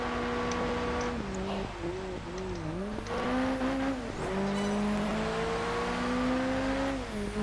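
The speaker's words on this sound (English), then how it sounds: "Okay, that's a motorbike." Motorbike engine in Project Gotham Racing 4, a loud close whine rising and falling with gear changes and throttle, pitch sweeping up and dipping repeatedly, with light tire noise underneath.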